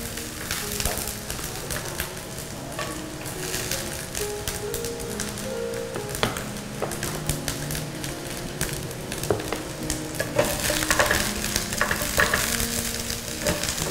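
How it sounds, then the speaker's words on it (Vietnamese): Eggplant sizzles and crackles steadily in oil in a pan over high heat, with occasional stirring clatter throughout and no one speaking. "Cái này mình cứ mở lửa lớn, mình chiên cho nó"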